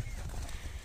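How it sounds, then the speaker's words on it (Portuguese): A horse hitched and ready to pull a traditional cart clip-clops in a steady, close rhythm of hoof strikes over a low rumbling background, with no speech. "Agora esse é o cavalo já pronto de charrete, viu?"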